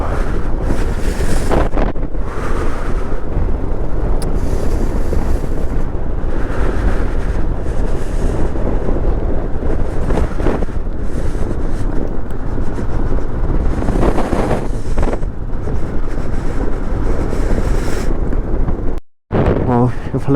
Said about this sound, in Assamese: বতাহ কিন্তু ইয়াত বহুত দিছে